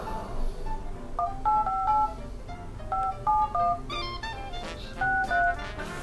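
A telephone number is tapped out as a quick series of touch tones, a dozen or so short beeps in uneven bursts, clear and close with no talking.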